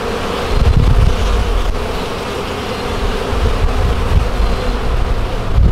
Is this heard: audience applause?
no